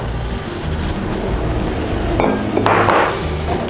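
Grated coconut mixed with sugar and salt is stirred in a bowl, a steady close scraping and rustle topped by a couple of sharp clinks of the spoon against the bowl near the end.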